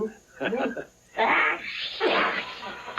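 A puppet character sneezes in a Fraggle Rock scene, with a few short bursts of breath, the last two loudest, close and clear with no speech over them.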